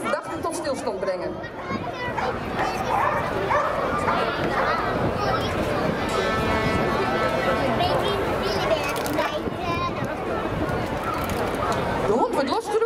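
A police dog barks repeatedly during a public dog-handling demonstration at a harbour festival, sharp loud barks and yelps mixed with crowd noise while an announcer talks over the whole stretch.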